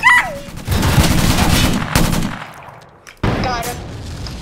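Gunfire in the Roblox game War Tycoon, a loud sustained burst of rapid shots, a pause, then another abrupt burst, with a voice briefly heard in between.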